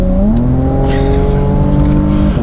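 A 2018 Porsche Macan Turbo with PDK gearbox accelerates hard, its engine note rising steadily in a loud, close, continuous surge from inside the car.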